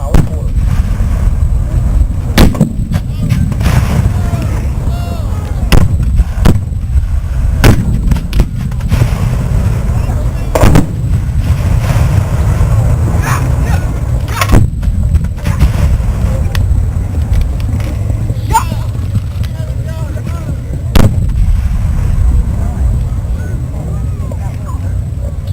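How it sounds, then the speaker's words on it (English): Cannon fire from artillery at a Gettysburg Civil War re-enactment, heard as sharp booms scattered over a constant rumbling outdoor background, with talk mixed in. "fun to watch the artillery. You can see there's about a 7 or 8 man crew."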